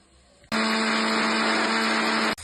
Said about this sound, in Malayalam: ഇത് മിക്സിന്റെ ജാറിലിട്ട് നല്ലോണം പൊടിച്ചെടുക്കും കേട്ടോ.